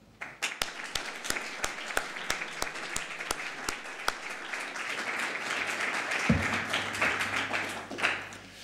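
Audience at a mathematics lecture starts with a slow, rhythmic group clap, then swells into continuous broad applause welcoming Professor Pierre-Louis Lions, fading near the end.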